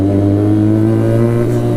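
A Benelli TNT300 motorcycle fitted with an Ixil full system exhaust holds a loud, close, steady rev, its deep engine drone unbroken for under two seconds with no talking.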